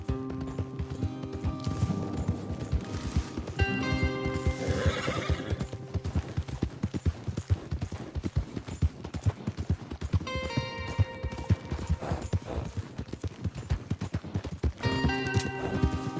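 Horses in Red Dead Redemption 2 galloping with steady rapid hoofbeats, several loud whinnies and neighs rising over the clip-clop, close and continuous with no talk.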